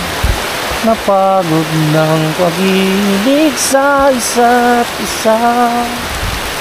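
Heavy rain pours in a steady, dense hiss beneath a man singing in Filipino, the downpour constant and loud throughout.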